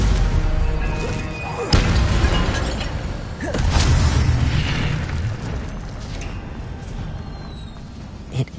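A Stupefy spell cast in the video game Hogwarts Legacy lands as a loud booming burst with a crash, amid a busy run of other spell effects and rumbling game audio.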